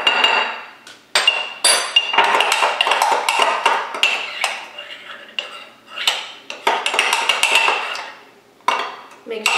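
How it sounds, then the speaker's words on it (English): Metal spoons clink and scrape rapidly against a mug while stirring chocolate protein mug cake batter, a close, loud run of irregular taps with a few brief pauses. "Make sure you give it a good stir,"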